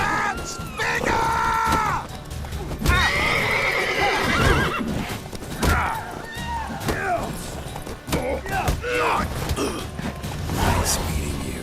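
In The Witcher 3 video game, a horse whinnies loudly several times over a continuous clip-clop of hooves, with creaks and other game sounds around it.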